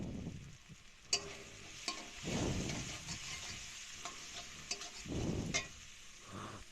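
Spoon stirring ground cumin, coriander and chilli powder into a frying cauliflower chop mixture in a pan, with soft scraping strokes over a low, steady sizzle and a few sharper knocks against the pan.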